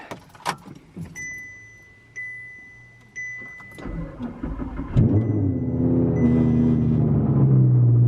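A few clicks and a chime-like warning tone, then an Audi R8 sports car engine cranks and fires up into a loud, rumbling idle up close.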